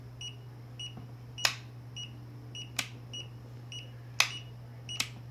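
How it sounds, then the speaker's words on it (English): A Mirarobot M600 drone's RC radio transmitter sounds its low battery warning, repeating faint, high, short beeps at a steady interval, with sharper clicks between them over a constant low electrical hum. "the low battery light is beeping all the time"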